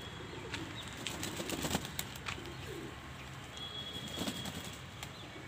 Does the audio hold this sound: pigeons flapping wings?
yes